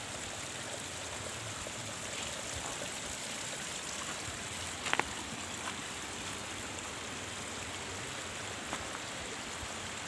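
A river on the slopes of Mount Lawu, running beneath rice paddies near Brubuh village, rushes in a steady, even wash of water that continues without letup.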